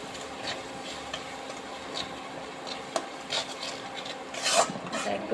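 Ground turmeric, cumin, coriander and chili powders are stirred in a pan for a hilsa fish and gourd curry, producing quiet, intermittent scraping and rasping strokes with a faint sizzle.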